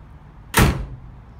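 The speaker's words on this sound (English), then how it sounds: "nice smooth moving door." A 2017 Ford Ranger door swings shut in a single loud, close thud, preceded and followed by quiet background.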